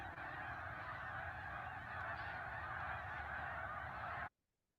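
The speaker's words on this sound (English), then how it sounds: "Chasing snow geese." A big flock of snow geese honks in a dense, continuous clamor close by in winter, many overlapping calls layered together until the sound cuts off abruptly near the end.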